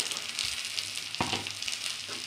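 Garlic and chopped green chili sizzle with fried onions in a pan, a steady close crackle with a brief stirring scrape midway, no talking.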